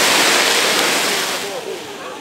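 Water thrown onto burning cooking oil during a fire brigade open-day demonstration erupts into a loud, continuous rushing roar that holds steady before easing slightly.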